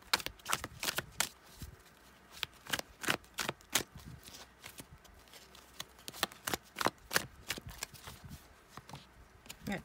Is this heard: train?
no